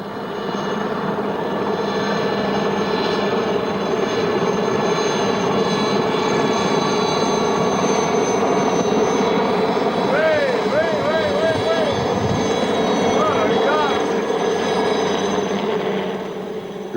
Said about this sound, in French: Le plus rigolo, c'est l'hélicoptère.